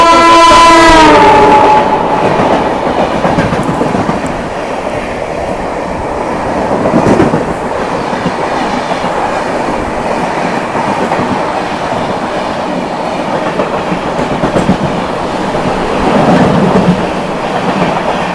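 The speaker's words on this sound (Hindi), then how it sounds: "सामने से आ रही है पुरी से चलकर आनंद विहार की ओर जाने वाली पुरुषोत्तम एक्सप्रेस।" The Purushottam Express, running from Puri toward Anand Vihar, passes at speed close by: a loud horn blast at the start, then a sustained roar and rattle of coaches rushing past.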